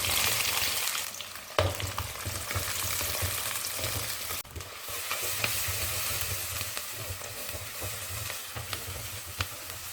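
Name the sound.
onions frying in oil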